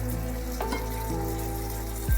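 A splash of water hits paneer and spices frying in a pan, giving a loud, close, continuous sizzle across the whole short moment, with a brief clatter at the end and no voices.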